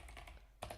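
Keys clack on a computer keyboard while a Python filename is entered, a few soft taps followed by a louder burst of strokes near the end, close and without talk.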